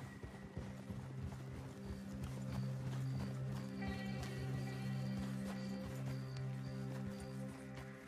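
Horses trot in the video game Red Dead Redemption II, a steady rhythmic clip-clop of several hooves at moderate distance over a musical score-like bed of sustained tones.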